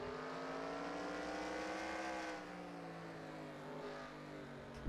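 Onboard view of a Toyota Camry stock car in a racing video game: a loud, steady engine drone at high revs with smooth gear-pitch sweeps, sustained close up throughout.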